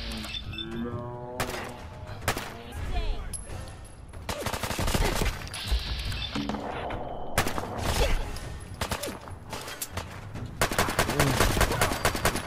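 Rapid bursts of gunfire in the video game Fallout 4, loud repeated volleys and machine-gun rattles in several stretches, with a voice shouting between them.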